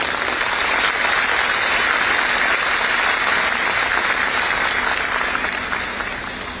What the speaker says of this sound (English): Let us all together welcome these excellent personnel with a thunderous applause